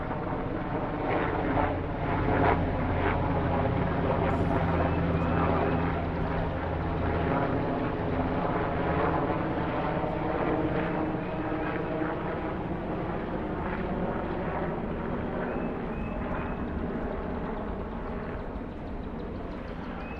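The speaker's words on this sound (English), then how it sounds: "helicopter." A steady, loud engine drone with a low rumble fills the whole stretch, like a helicopter passing overhead, holding fairly constant throughout.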